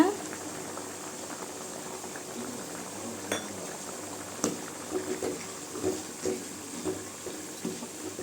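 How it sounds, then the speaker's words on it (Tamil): A pot of Tamil mutton intestine curry (kudal kuzhambu) simmers with soft, irregular bubbling pops over a low steady hiss, plus a faint clink or two of a utensil. "குழம்பு இன்னும் கொஞ்சம் கொதிக்கணுங்க"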